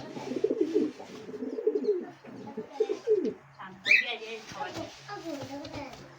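Pigeons coo in low, soft repeated phrases close by, with a brief higher chirp midway and faint background voices; pigeons kept for sale in Shyampur, Uluberia.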